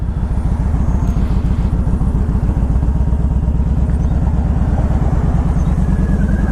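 A 2000 Harley-Davidson Ultra Classic motorcycle on the road, its engine giving a loud, steady, low rumbling throb that continues without a break and with no talking.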